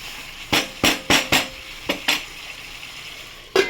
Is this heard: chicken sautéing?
yes